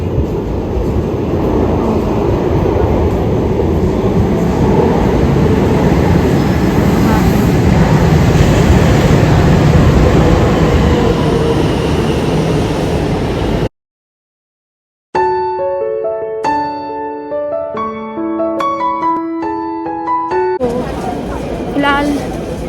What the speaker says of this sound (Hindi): मेट्रो आने वाली है